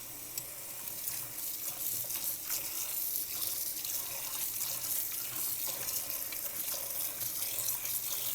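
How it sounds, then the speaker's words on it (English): Steady rush of water pouring from a tap into a non-stick pan, a continuous splashing hiss with no voices. "Put some water in it."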